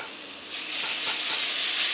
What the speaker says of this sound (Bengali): পরিমাণ মতো এবার জল দিয়ে দেবে সবাই